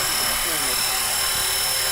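A Blade 230 S V2 radio-controlled helicopter in flight, its loud, steady rotor and motor whine filling the scene nearby without pause.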